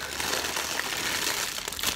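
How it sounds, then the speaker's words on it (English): Bubble wrap packing from an opened parcel being crinkled and pulled out by hand, a dense continuous rustling and crackling close up, with no speech. "Lots of bubble wrap. Bubble wrap galore."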